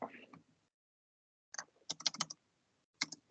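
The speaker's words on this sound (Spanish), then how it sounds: "me está yendo mal el teclado" Typing on a computer keyboard, a short burst of clicks, a pause, then two quick rattling bursts of keystrokes, close and fairly quiet.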